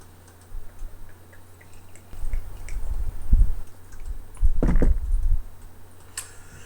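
Troubadour Westkust beer from Brouwerij De Musketiers pouring into a glass, heard as a few soft, uneven gurgling and splashing bursts over a quiet background, with no talking.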